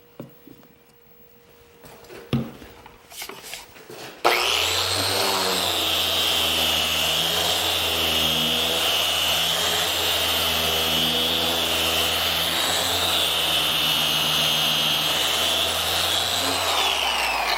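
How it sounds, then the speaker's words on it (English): Power sander working wet glue into the miter joint of a cabinet door: a loud, steady, droning whine starting abruptly after a few soft knocks and handling sounds, running continuously and close. "As long as you sand that while the glue is still wet, it just fills in real nicely."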